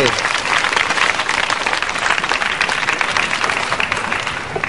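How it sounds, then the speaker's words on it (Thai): Audience in a Thai television studio bursts into loud, sustained applause, dense clapping throughout with faint voices underneath. "ขอ เสียงปรบมือให้กับ"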